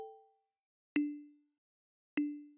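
Single synth notes picked out of ambient chords ring out three times, each a soft, plucky tone that decays quickly into silence, faint and widely spaced.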